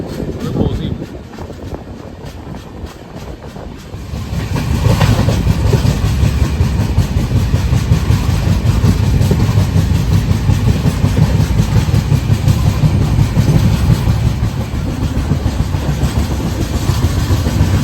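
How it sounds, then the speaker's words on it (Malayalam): An express train running at around 100 to 110 km/h on the Kochi to Delhi route gives a loud, steady low rumble and rolling rattle, building after a quieter opening and holding constant, with a voice speaking over it. "100 കിലോമീറ്റർ 110 കിലോമീറ്റർ സ്പീഡിലൊക്കെ ഈ ട്രെയിൻ പോകണം."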